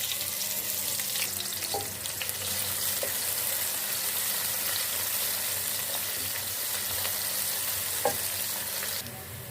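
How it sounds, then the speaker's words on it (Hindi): Onions and cumin frying in cooking oil in a kadai give a steady, continuous sizzle across the whole stretch, with faint stirring clinks now and then and no talking. "अब इसमें हम प्याज डालेंगे और प्याज को हमने फ्राई कर लेना है।"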